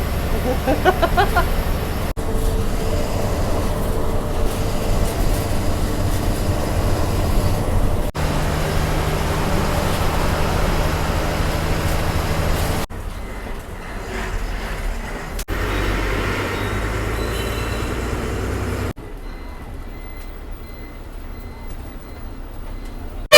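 A loud, steady rumble and rattle of a train running close alongside a moving GSRTC deluxe express bus, mixed with the bus's road and engine noise, on the Ujjain to Vadodara route.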